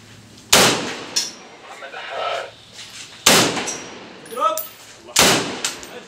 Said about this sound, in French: ils répondent avec une série d'obus de chars qui forcent les rebelles à reculer